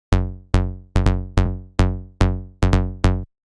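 Ableton-made trance bass without multiband dynamics, a run of nine punchy synth plucks in a syncopated pattern, each one struck hard then fading quickly, with a darker, duller top than the processed version and no talking.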